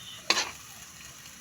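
Sautéed cabbage with sardines is stirred in a frying pan, giving two short scraping swishes over a faint background sizzle, with no voices.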